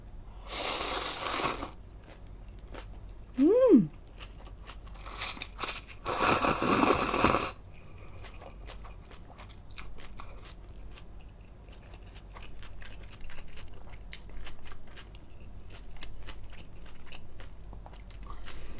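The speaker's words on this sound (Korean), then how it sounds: "자, 먹어보겠습니다. 자, 파타이공." Someone eats pad thai up close, with a few loud bursts of crunchy biting and chewing early on, a short vocal sound between them, then quieter chewing and small mouth noises for the rest.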